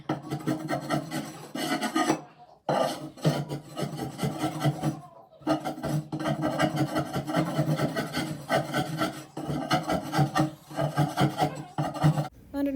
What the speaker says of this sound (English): It had to be scraped and swept.